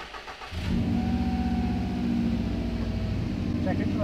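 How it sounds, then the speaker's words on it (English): Subaru WRX STI, Series Grey, starts up: a brief crank catches into a loud, steady low idle that runs on close by, with someone talking over it. "then we can fire her up"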